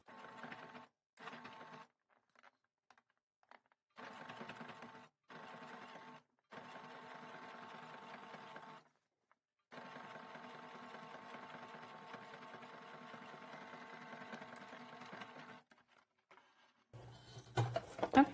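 A sewing machine topstitches a pocket in repeated bursts of steady mechanical whirring, short runs at first and then a long continuous run, separated by silent pauses, with no speech.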